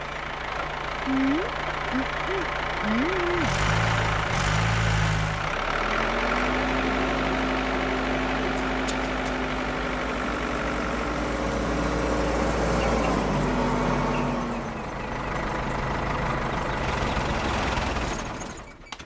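A repaired motorbike engine idles steadily at close range, its low mechanical hum running continuously throughout with a brief rise near the start and a drop in level toward the end.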